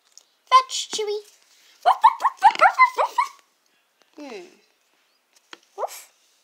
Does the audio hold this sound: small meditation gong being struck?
no